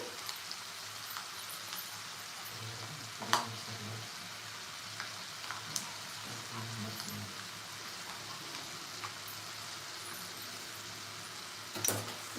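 Okra (bendi) fries in a pan at a steady, low sizzle with faint crackles, and a few sharper clinks of stirring stand out above it.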